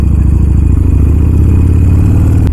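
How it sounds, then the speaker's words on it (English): A Harley-Davidson Iron 883 with an 883 cc engine and a baffle fitted in its exhaust, rumbling loud and close in a steady, throbbing low-pitched thump throughout. "exhaust అయితే crazy పెద్దగా వస్తుంది విత్ బ్యాఫిల్"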